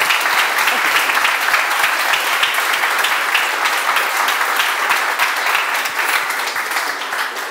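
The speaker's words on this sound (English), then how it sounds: "Actually, round of applause first." Sustained applause from a conference audience after a talk on building a serverless social network: dense, loud, even clapping from many people, holding steady for over seven seconds with only a slight taper at the end.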